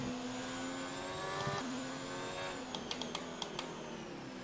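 F1 car engine from the F1 2020 racing game, a steady high-pitched whine holding at speed around the track, with a brief dip near the middle and a few sharp clicks of gear changes toward the end.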